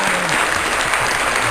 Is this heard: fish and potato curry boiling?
no